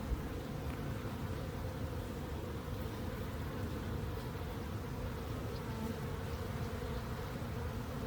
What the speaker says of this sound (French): J'espère qu'il n'y a pas des abeilles qui sont en train de piquer ce miel.